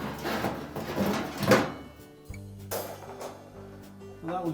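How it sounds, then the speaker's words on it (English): Metal oven racks slid out of a Frigidaire range, scraping and clunking with a few sharp metallic knocks and resonant rings, fairly close and quiet. "So next we'll remove the racks."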